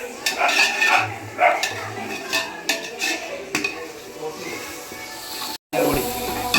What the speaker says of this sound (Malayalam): മല്ലിപ്പൊടി ഇട്ട് നല്ലപോലെ ഒന്ന് ഇളക്കി കൊടുക്കാം.